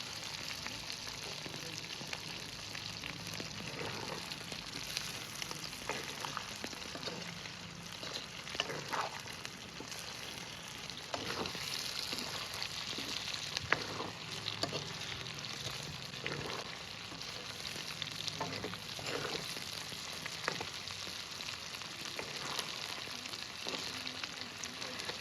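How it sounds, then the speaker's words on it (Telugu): Chicken pieces fry in oil on a medium flame, a continuous, fairly quiet sizzle and crackle with occasional louder pops and stirring scrapes throughout, no speech. "మీడియం ఫ్లేమ్లోనే 20 minutes మనం దీన్ని ఫ్రై చేసుకోవాలి."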